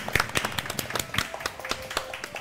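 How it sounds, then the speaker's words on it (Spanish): Scattered clapping from a small audience at a gathering honouring the technical crew, with quick, uneven claps overlapping at moderate volume throughout. "Así que un aplauso."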